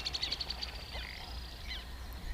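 A displaying ruddy duck makes a series of quick, soft ticking and bubbling notes outdoors, faint and fairly close, with no talk over it.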